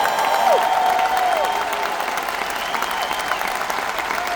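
A large church-event crowd in Edmonton claps hands in sustained, dense applause that stays loud and even for several seconds, with a few faint cheers mixed in.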